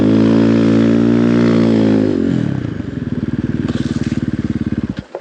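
A motorcycle engine on an off-road trail ride hums steadily, then drops in pitch, stutters into a rapid sputtering pulse and cuts out completely, dying at the end.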